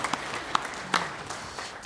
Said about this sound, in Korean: 영광의 박수를 하나님께 드리겠습니다.